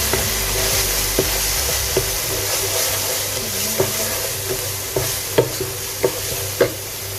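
Onions, spices including red chili powder and fennel seeds, and chicken frying in oil in a pan, a steady sizzle with a scraping spoon stirring in repeated strokes, no talking.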